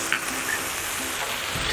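Garlic-ginger paste and tomatoes sizzle hard on a hot tawa while keema cooks, a steady, dense frying hiss with light stirring scrapes, close and loud with no talking.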